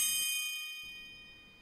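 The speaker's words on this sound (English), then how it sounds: "The bell rang for recess while Mr. Wilson was still teaching a lesson" A single bright school bell ding rings out at the start and decays slowly, a clear metallic tone with no voices.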